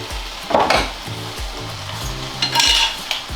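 Meat fries in a pan, a continuous sizzle broken by a few stirring scrapes and clinks near the mic, with no talk.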